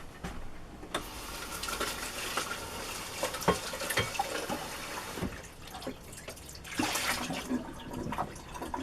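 Water running as a container is rinsed out and emptied into a sink, splashing and gurgling with sharp knocks of the container and a louder pour near the end, no talking.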